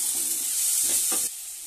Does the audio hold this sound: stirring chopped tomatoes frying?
yes